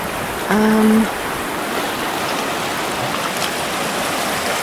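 A fast-flowing river at Ebermannstadt, held tightly in its bed, rushes with a steady, loud broadband roar, and a brief tonal whistle sounds near the start.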